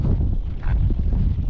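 Strong wind blows across a rocky shore, making a steady, loud, low rumble as it buffets the microphone the whole time, with no clear breaks.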